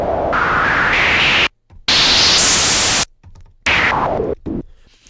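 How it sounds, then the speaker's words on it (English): Harsh bursts of synthesized noise from an Arturia MiniBrute 2 noise oscillator with a sharp high-resonance whistle that shifts pitch, loud and close, switching on and off in short blocks. "if I turn the noise oscillator all the way up and the resonance up a lot"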